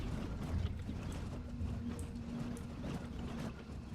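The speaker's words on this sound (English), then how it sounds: "It's like a rhythmic thump" Rhythmic, low thumping ambience inside Sevastopol station in the Alien Isolation video game, a steady mechanical pulse repeating under a dense, continuous background hum.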